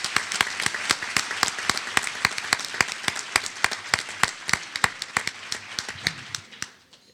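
An audience at a Second Chance Act reentry conference applauds Senator Brownback with sharp, distinct claps in a fairly sparse, rhythmic pattern that thins out and stops near the end.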